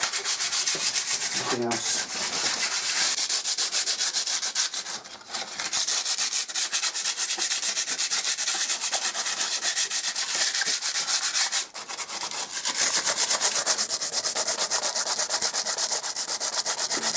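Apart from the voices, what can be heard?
scuffing surface by hand to key it for paint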